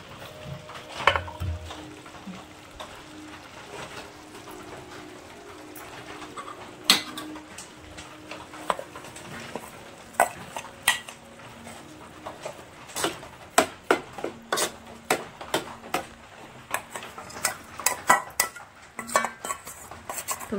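Ladle scraping and clinking around a cooking pot as jaggery is stirred into a sweet dish in a Konkan home kitchen, with irregular metallic knocks and clatters, some sharp and close, over a low background hum.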